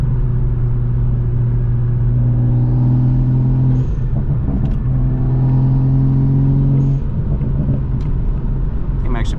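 A Toyota Supra drives at night with a loud, steady engine drone that holds a constant pitch, drops and shifts around four and seven seconds as gears change, then settles back into a smooth cruise.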